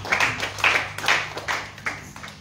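Church congregation clapping for Jesus during a service: a steady, rhythmic run of group claps, about two per second, over a low background hum.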